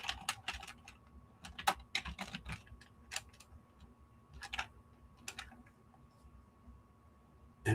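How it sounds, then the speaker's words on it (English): Scattered keystrokes on a computer keyboard, short clusters of light clicks separated by pauses, close and quiet over a faint steady hum. "I type victory."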